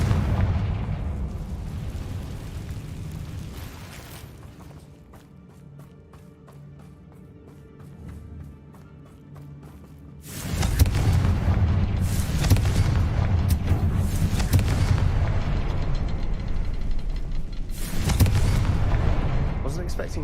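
A Confringo fire spell blasts in Hogwarts Legacy, a loud booming explosion that erupts after a quieter stretch and rumbles on, with further bursts following.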